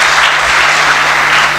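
A large audience at a motivational lecture claps loudly and continuously for a second and a half, dense even applause with no voices over it.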